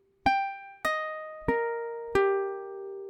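Four single ukulele notes picked one at a time, spelling out a chord from a song; each pluck rings clearly and decays, close and unaccompanied.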